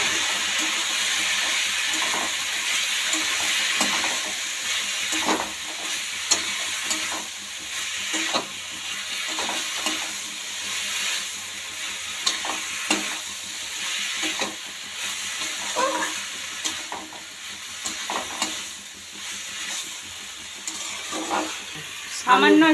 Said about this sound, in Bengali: এর মধ্যে দিয়ে দিচ্ছি এই যে আগে থেকে সেদ্ধ করে রাখা কুমড়ো শাক। এবার সব কিছুকে আরেকবার ভালোভাবে কষিয়ে নেব।